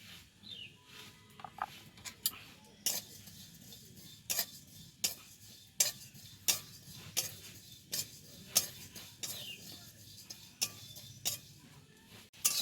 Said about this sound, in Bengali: এবার খানিকটা মৌরি আমি ভেজে নেব।